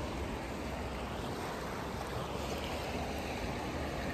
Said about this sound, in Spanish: qué bonito es el río